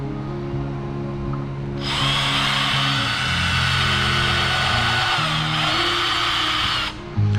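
A power drill runs in a workshop: a loud, close, steady whine starts abruptly, holds for about five seconds and cuts off, with a low hum underneath throughout.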